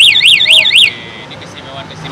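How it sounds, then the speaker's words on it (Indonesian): A Honda Gear 125 scooter's anti-theft alarm blares four rapid, loud warbling siren sweeps, then stops, leaving faint background noise. "kalau keadaan motor kita kunci alarm, nah si motornya itu nggak bisa nyala tapi alarmnya nyala."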